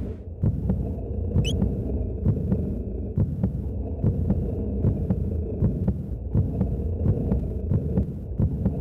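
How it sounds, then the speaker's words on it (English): Racing heartbeat from the Chrono Trigger video game (DS version), a steady throbbing pulse repeating at a quick, regular pace, loud and alone over a low humming drone. "Heartbeat."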